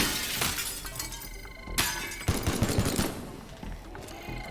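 Gunfire in the video game Teardown, heard as sharp bursts and crackling shots with shattering, breaking debris, loud and close, including a quick rattling volley in the middle.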